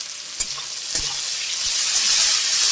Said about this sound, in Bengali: পেঁয়াজ লাল করে আমি ভাজতে থাকি